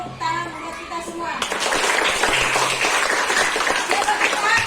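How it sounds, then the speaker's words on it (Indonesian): Schoolchildren in a classroom at SDN Kebayoran Lama Selatan 11 in Jakarta break into applause, a dense, close burst of clapping that starts after a brief moment of voices and carries on steadily to the end. "tepuk tangan buat kita semua"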